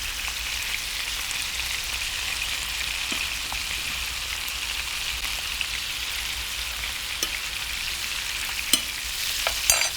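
Breakfast sausage patties sizzle steadily in a hot pan, a constant close hiss broken by occasional sharp pops and crackles, with no talking.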